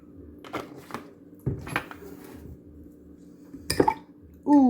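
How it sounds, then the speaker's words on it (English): Three Oreos mashed with milk in a mug, a utensil scraping and clinking against the mug in a few irregular bursts, close and fairly loud, with a brief voice rising at the very end. "we're gonna mix the Oreos with some milk and mash them up"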